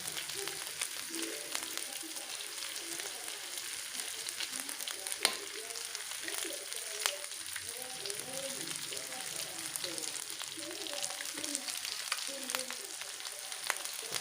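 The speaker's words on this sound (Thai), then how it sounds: "เราจะผัดเครื่องก่อนนะครับ" Clams stir-fried in a pan with Thai chili paste, sugar and oyster sauce, giving a steady soft sizzle and crackle with scattered spatula scrapes and taps, fairly quiet and continuous with no talk.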